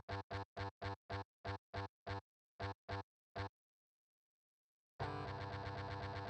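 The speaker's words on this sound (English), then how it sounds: "electric distortion guitar." Short, choppy bursts of a distorted electric guitar play in a rhythmic pattern, then a sustained, buzzing distorted chord rings out.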